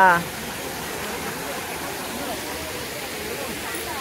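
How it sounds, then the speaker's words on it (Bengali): Waterfall at Rock Garden, Darjeeling, a constant broadband rush of falling water heard close and fairly loud, steady throughout after a brief louder burst at the start. "রক গার্ডেনে যে ঝর্ণা জল পড়ছে সেখানে আমি নেমে গেছি ভিডিও করার জন্য"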